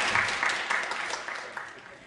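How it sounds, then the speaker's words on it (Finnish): Brief clapping from a small group for a child after a jump in a gymnastics class, a short burst of applause that fades out over about two seconds. "Hyvä, aplodit Juusolle."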